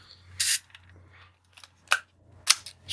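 A Zorki 4K 35mm rangefinder film camera shutter fired at a fast speed, several separate sharp mechanical clicks spaced out over a quiet low hum, close to the camera.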